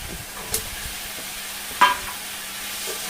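Masala being stir-fried in a pan for a catfish curry, a soft steady sizzle with a couple of sharp spoon scrapes against the pan, close and fairly quiet, no talking.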